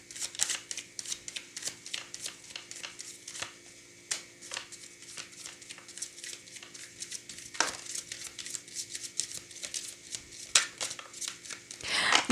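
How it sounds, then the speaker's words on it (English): A Star Spinner tarot deck is shuffled by hand close up, a rapid patter of crisp card flicks and riffles in quick bursts with brief pauses, faint and without speech. "let's see how this deck shuffles."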